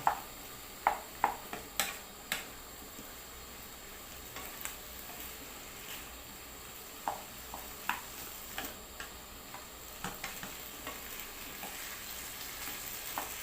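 Mushrooms and beef being stirred in a cooking pot for a northeastern Thai stew, with a soft simmering hiss under a series of sharp ladle clicks and taps against the pot at irregular intervals, close by, no talk.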